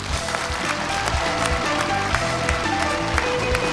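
A CCTV studio audience breaks into steady, dense applause, many hands clapping evenly and loudly throughout with no pause.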